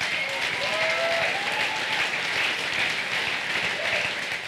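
Sustained applause from an audience during a Dutch political discussion about coalition talks, a steady dense patter of clapping filling the whole stretch with a faint murmur of voices underneath.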